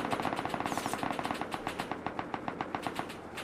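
Rapid automatic gunfire in the survival video game Rust during a base raid, a steady stream of sharp shots repeating about every tenth of a second for several seconds, loud and continuous with no talk.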